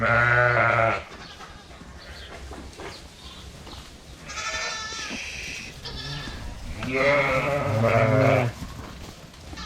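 Lambs and sheep in crowded lambing pens, bleating in several loud close calls separated by quieter stretches of shuffling and background barn noise.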